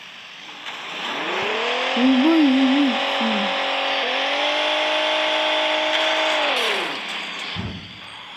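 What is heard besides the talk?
car engine starting and revving in a car parking video game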